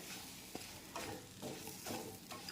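Vegetables sautéing in butter in a pan, with a steady soft sizzle and repeated stirring scrapes at a close, even pace.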